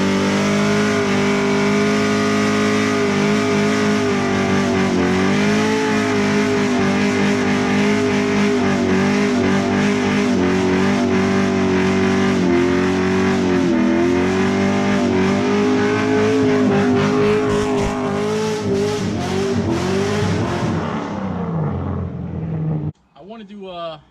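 A 1999 Chevrolet Corvette C5 engine runs loud and steady for about twenty seconds with wavering revs, a person talking over it, before cutting off near the end.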